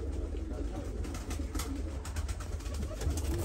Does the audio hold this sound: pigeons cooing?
yes